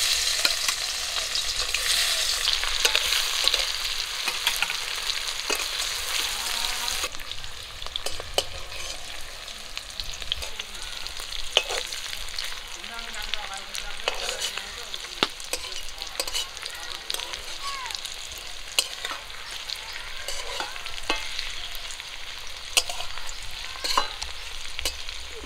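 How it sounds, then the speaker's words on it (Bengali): Eggs fry in a pan with a steady close sizzle, loudest at first and then easing, broken by repeated scraping and tapping of a spatula against the pan; no voices. "বাকি ডিমগুলো আমি একই রকম করে ভেজে নেব।"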